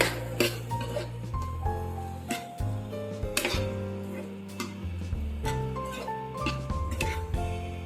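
A utensil scrapes and clinks against a pan while finely chopped tomatoes are stirred for pizza sauce, with irregular close metallic knocks and taps over a soft background.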